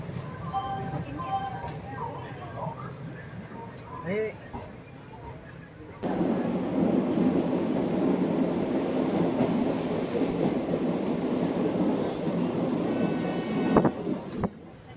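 The Dharmavaram–Narasapur passenger train leaving Tirupati station runs with a continuous rolling rumble and faint clatter, swelling noticeably louder partway through, with a voice talking during the quieter opening stretch.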